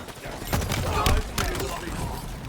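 Gunfire and explosive combat in Halo Infinite during a team slayer match, with a grenade thrown amid the fighting; dense bursts and sharp blasts crowd the whole stretch, loudest around the middle, with voices mixed in.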